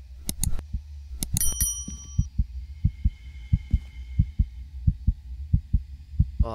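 Heartbeat in the horror video game Crimson Snow, a steady, deep, thudding pulse repeating about every half second, with bright bell-like chimes ringing at the start and a faint hum underneath.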